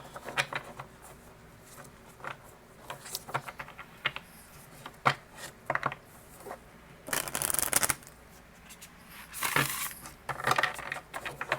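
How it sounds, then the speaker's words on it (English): Oracle cards riffle and slap close by in bursts of shuffling, with soft taps and flicks between them as cards are pulled. There are two louder shuffling runs near the end and no talk. "let's go ahead and pull some of the healing mantra cards"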